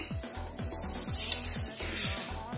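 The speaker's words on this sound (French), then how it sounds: "une journée de ponçage par jante" Camper van wheel rims being sanded, a continuous rough abrasive rasp with a regular repeating stroke pattern, steady and close.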